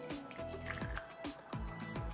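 Soy sauce poured into a vegan stir fry sauce mix alongside hoisin and dark soy, giving a run of close wet drips and squishy splashes in quick repeated bursts with a continuous liquid trickle.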